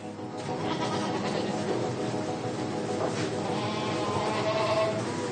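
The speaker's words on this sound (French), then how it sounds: "une chèvre laitière d'une ferme voisine" A dairy goat on a farm bleats repeatedly, loud and close, its wavering calls steady over a dense backdrop of other farm noise.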